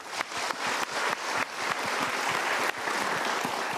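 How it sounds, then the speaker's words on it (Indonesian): An audience breaks into dense, sustained applause at a motivational talk by Mario Teguh, a loud continuous wash of clapping with a few sharper bursts. "Kita berikan tepuk tangan dulu."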